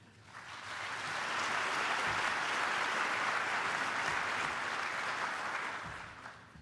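Sustained audience applause at a volunteer awards ceremony, swelling to a steady, dense roar of many hands clapping, holding for several seconds, then tapering off, with no voices over it.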